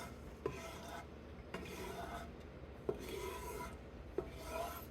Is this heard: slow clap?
no